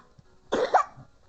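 A single short cough, close and fairly soft, with a faint breathy rasp and nothing else around it.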